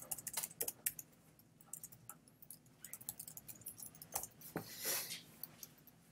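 Fingers type on a computer keyboard at a login screen, with a near, irregular run of light key clicks in uneven bursts and pauses, fairly quiet and with no talking.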